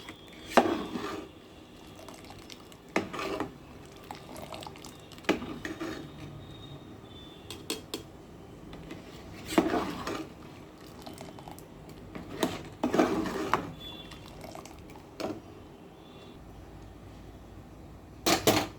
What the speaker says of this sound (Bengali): পেকটিন, আমের রস, পাল সব এবার আমি এইভাবে খুব ভালো করে নাড়বো।